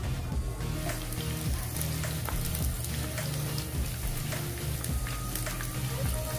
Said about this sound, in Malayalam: ഇനി അതിലേക്ക് 3-4 അള്ളി വെളുത്തുള്ളി ചതച്ചതും കുറച്ച് കറിവേപ്പിലയും ചേർത്ത്